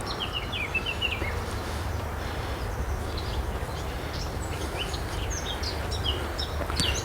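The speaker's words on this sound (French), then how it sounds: "On entend les oiseaux" Along the Seine, small birds chirp and twitter in short high bursts over a constant broad rush of city traffic, the calls scattered and moderately near.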